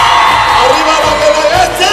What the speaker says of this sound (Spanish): el grito de las mujeres, el grito de los hombres